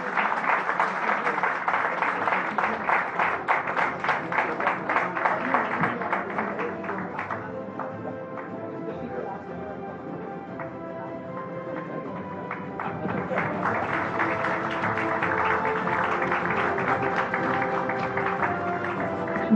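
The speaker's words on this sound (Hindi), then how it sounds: "एक बार जोरदार तालियां।" An audience at the Viksit Bharat 2047 Vision of New India 3.0 gathering gives a round of applause for a welcome with a bouquet. Dense clapping fills the first stretch, fades to a softer patter, then swells again toward the end.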